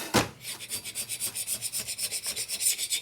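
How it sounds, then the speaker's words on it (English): A scraper is pushed in rapid repeated strokes across a 1990s Harley Sportster 1200 cylinder head, lifting old gasket remnants and carbon; a steady rasping rhythm of about six strokes per second, close and clear with no talk. "Just scrapes off the gasket nicely. Takes the carbon off also."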